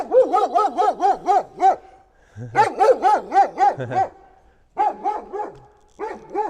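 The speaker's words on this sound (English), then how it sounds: "Look at this, a bear dog." Dog barking outdoors on a walk in Minsk, close and loud, in quick bursts of five or six barks separated by short pauses, with a few deeper low yelps mixed in.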